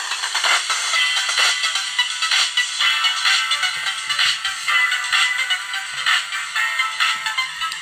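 Harsh, buzzing long-wave radio static from a radio receiver with rhythmic pulsing bursts of interference, loud and continuous throughout, with no voices.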